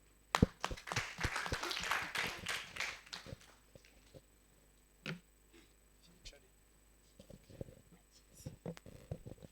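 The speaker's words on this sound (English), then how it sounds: "please clap for them" A group at a children's AI summit claims an opening burst of scattered hand clapping for presenters, lasting about three seconds before dying into sparse taps and small knocks in a quiet room.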